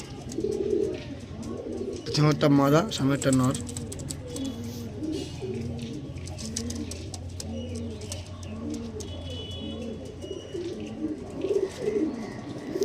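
A flock of Andhra Madrasi pigeons coos continuously in a home loft, low rolling calls repeating throughout, while someone speaks briefly near the start and then falls quiet.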